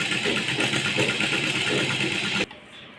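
A treadle sewing machine, turned by hand wheel and foot pedal, runs a steady rapid stitching whirr close by for about two and a half seconds, then stops abruptly.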